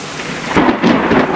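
A thunderstorm with heavy rain pelting down close by, a loud steady roar with low rumbling thunder swelling in the second half.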